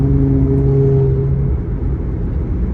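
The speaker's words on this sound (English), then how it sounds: "You may have heard that car zooming around." A car zooms past on the road, a loud rumbling engine with a whining tone that fades away as it passes, then leaves a low residual roar.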